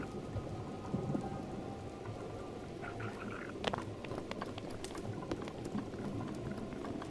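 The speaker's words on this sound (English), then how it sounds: "But the rain ain't really helping anything either." Steady rain hisses in the Breath of the Wild video game, a continuous close patter with scattered sharper drips and clicks, and no talking over it.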